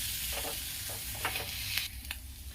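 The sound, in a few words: dry spices being roasted in a pan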